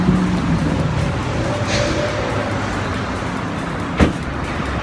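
Open-top convertible car cruising on a California road from San Francisco toward Fresno, a steady broadband road and wind roar with a brief louder knock near the end.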